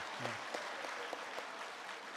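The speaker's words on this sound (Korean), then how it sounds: "박수로 응원해 주시기 바랍니다." Church seminar audience clapping together, a steady dense wash of applause filling the whole moment without a break.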